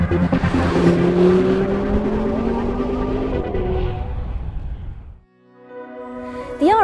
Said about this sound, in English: they'll open up the exhaust more, giving it a throatier noise